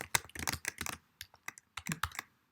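Fingers type on a computer keyboard, a burst of rapid clattering keystrokes followed by a few slower, spaced clicks, close and crisp with no voices.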